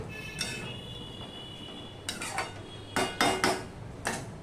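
Metal spoon scraping and clinking in a pan while gathi kochu curry is mixed with coriander leaves, quiet at first, then a few sharp clusters of clinks near the end.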